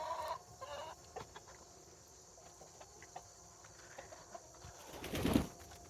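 Chickens and a rooster on a homestead give scattered clucks and calls at moderate distance, building to a louder burst of squawking near the end, with no talk over them.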